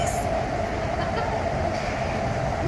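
An airport train runs along rails at speed in Hong Kong, a continuous loud rumble with a steady mid-pitched whine and faint clatter, heard from inside the car.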